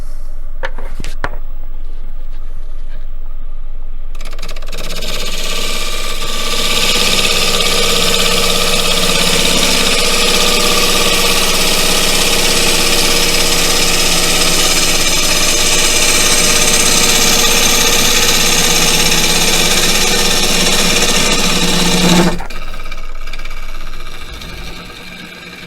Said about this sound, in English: on a 1/2 inch bowl gouge, I'm taking that much of a cut